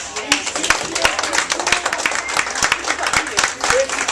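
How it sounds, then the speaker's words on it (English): Steady applause from an education conference audience, many hands clapping continuously at a moderate distance. "Round of applause for these."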